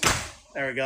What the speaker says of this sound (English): let me close the door, block out all the outside noise